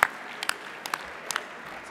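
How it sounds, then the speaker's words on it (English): A few scattered claps ring out from an audience at an awards ceremony, sparse and fairly faint, with brief sharp hits spaced across the moment. "a round of applause for the number"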